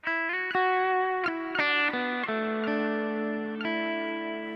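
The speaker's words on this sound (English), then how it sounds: "the ducking is allowing me to play hard and you don't hear the effect" Electric guitar run through a digital modeler with a ducked effect, a series of sustained picked notes and chords ringing close and clear, the effect swelling in as each note decays, no voices.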